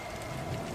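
Heavy rain pouring down, a steady, moderately loud hiss of drops pattering on surfaces with no voices over it.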